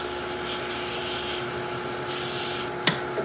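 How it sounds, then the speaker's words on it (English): Abrasive sanding against spinning wood on a lathe, a steady rasping hiss with a brief sharp scrape near the end. "I don't want to sand inside this rim, but I can sand here"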